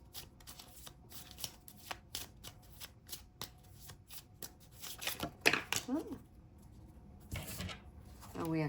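A deck of tarot cards is shuffled close by in a quiet room, with repeated soft riffling flicks, and a voice speaks briefly near the end.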